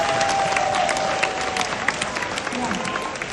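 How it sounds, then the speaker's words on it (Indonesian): Seminar audience applauding a sponsor at a family business presentation in Indonesia, with a dense burst of clapping from a crowd that fades slightly over a few seconds. "Tepuk tangan buat sponsor kita, Triple Diamond Jenis Gan."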